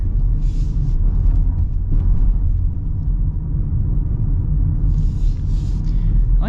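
A 2026 Mazda CX-50 Hybrid cruises along a road, its cabin filled with a steady low rumble of tire and road noise, with faint higher hiss swelling briefly now and then.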